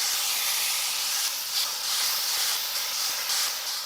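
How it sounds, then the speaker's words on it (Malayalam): Spiced beef tossed into hot sunflower oil sizzles with a loud, steady hiss, close and continuous with slight surges, no voices over it. "നമ്മൾ മസാല പുരട്ടി വെച്ച ഇറച്ചി ഇതിൽ കുറേച്ചാ വാരിയിടാം"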